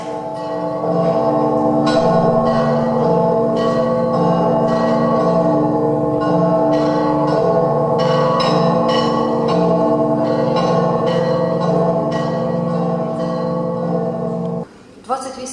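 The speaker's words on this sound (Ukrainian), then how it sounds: "Дзвони Чорнобиля закликають." Bells tolling in remembrance of the Chernobyl nuclear disaster, loud ringing strikes layered over a dense, sustained humming resonance, repeating for over ten seconds before breaking off near the end.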